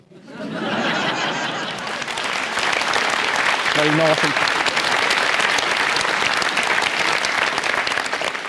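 A comedy show audience breaks into loud, sustained applause mixed with some laughter, with a voice briefly speaking over the clapping.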